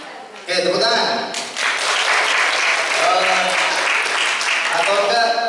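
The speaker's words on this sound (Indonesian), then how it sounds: "Oke, tepuk tangan." School audience of students and teachers applauding at a prosecutors' outreach session, with dense clapping swelling in after a short pause and holding steady and loud; a voice or two can be heard faintly underneath.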